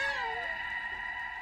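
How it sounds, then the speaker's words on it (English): Cats meowing in the video game Stray, a high, drawn-out mewing call that bends in pitch and carries steadily for about a second and a half with no talk over it. "Oh, they're meowing for us."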